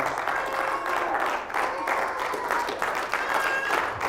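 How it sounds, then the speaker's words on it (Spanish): A church congregation breaks into loud, sustained applause during a sermon, a thick continuous clatter of many hands with faint crowd voices underneath. "denle un fuerte aplauso al Señor"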